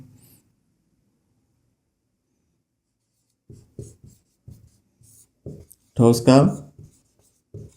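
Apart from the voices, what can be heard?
writing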